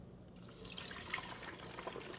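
Homemade chicken stock pours into a fat separator container in a kitchen, a steady close liquid splash and gurgle that starts after a brief quiet moment and runs on continuously, with no talking.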